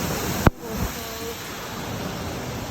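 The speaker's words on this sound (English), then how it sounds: "We found the waterfall!" Waterfall at Llanberis: a steady broadband rush of falling water fills the whole clip, with a brief sharp knock near the start.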